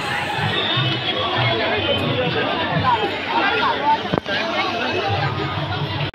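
Busy crowd hubbub at a Kali Puja pandal in Barasat during festival pandal hopping, a continuous murmur of many voices close around, with a nearer person speaking over the babble.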